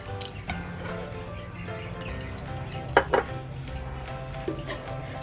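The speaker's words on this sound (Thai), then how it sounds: "แล้วเราก็จะคนผสมให้เข้ากันก่อนนะจ๊ะ" Sugar, fresh milk and vegetable oil stirred together in a bowl, soft liquid swishing with a few clinks of utensil against the bowl, close and fairly quiet.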